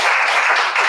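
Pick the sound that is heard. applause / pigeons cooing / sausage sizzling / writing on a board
applause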